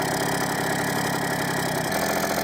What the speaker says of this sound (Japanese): 最初なんでアイドリングが安定するまで吹かさないとダメなんですけど、 でもまあエンジンかかったんで良かったです